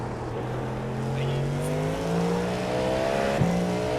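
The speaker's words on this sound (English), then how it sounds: "Isn't this beautiful sounding car? I love it. I think this car sounds great." A race car engine in a sim racing game at Daytona howls steadily and loudly at high revs, the pitch climbing through gears with a brief shift blip, heard alone without talk.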